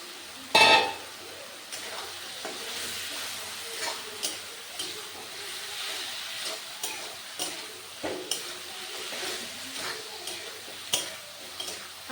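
Fried potatoes being stirred with spices in a pan for a banana flower curry with fish head, with steady sizzling and regular scraping strokes of a spoon and a sharp clatter near the start.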